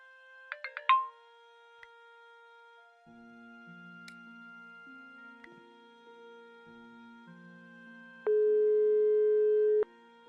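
Phone call in the PS4 adventure game Broken Sword 5: The Serpent's Curse: a quick burst of electronic beeps, then a run of stepped dialing tones and a long steady ringing tone, with no talking.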